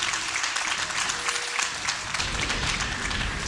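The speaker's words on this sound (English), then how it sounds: "let me hear you cheer in the audience, cheer at home, cheer whatever you're doing" Esports arena audience at the 2011 League of Legends World Championship cheering and applauding for Fnatic, a dense, steady roar of clapping and crowd noise throughout.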